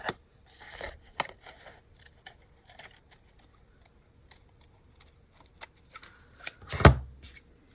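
Scissors snipping a small piece off craft material for altered safety pins, a series of sharp, close snips and crisp clicks spread irregularly, with one louder cut near the end and quiet handling noises between.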